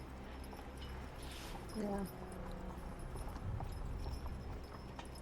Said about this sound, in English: Another wagon. horse and buggy.